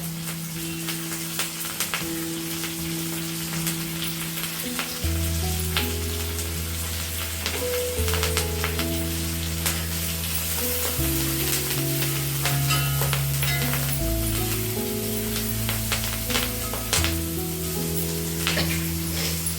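Onions sizzle and crackle steadily while frying in a pan with curry leaves for country chicken chukka, with background music playing throughout.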